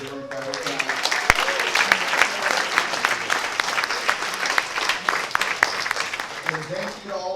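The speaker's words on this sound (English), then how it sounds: "I have to give the 3 Sharks one more round of applause" A live audience claps for three Shark Tank-style judges, a dense sustained round of applause filling the room at close range, with a voice briefly heard at the start and end.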